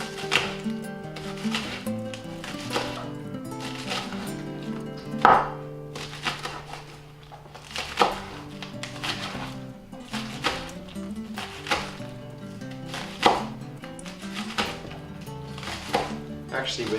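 A knife slices green onions into quarter-inch pieces on a cutting board, giving a run of sharp, close taps at an uneven pace, with a person talking between the cuts.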